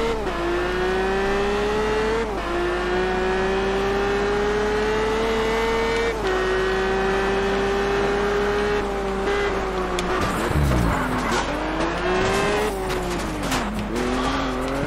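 A car in the racing game Test Drive Unlimited holds a loud, sustained engine drone that dips with gear changes. Tires squeal and skid through the later turns.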